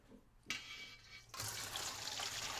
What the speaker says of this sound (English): leave a crack so that you can pour the water out and keep the noodles in the pot